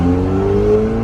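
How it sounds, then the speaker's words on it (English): A $500,000 car running race gas idles and revs lightly, its exhaust giving a loud, steady, close-up drone with a deep tonal hum throughout. "But then just listen to this exhaust note. It's insane."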